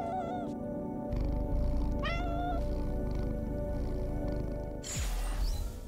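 Cat meowing in the video game Loopmancer, a few clear rising meows over a steady layer of game music and ambience, with a brighter burst of sound near the end.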